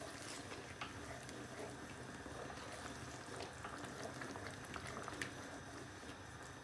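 Mushroom bhajee sauce bubbles over medium-high heat, a faint, steady simmer with scattered small pops and crackles throughout.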